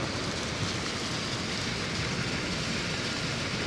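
Heavy rain pours down in Saudi Arabia at night, a steady, dense hiss of water that holds an even loudness from start to finish, with no voices.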